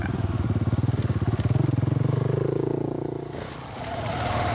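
An adventure motorcycle rides off-road under careful throttle control, its engine pulsing loud and close in a steady rhythmic throb that rises, then eases off and drops before picking up again.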